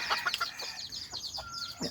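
Young rooster chasing a hen while chickens cluck in a farmyard, with a rapid run of close, agitated clucks and squawks that comes in bursts throughout.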